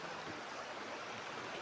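A river at a three-river meeting point near Camp Bawi rushes steadily with a broad, even watery hiss that holds constant throughout, with no voices.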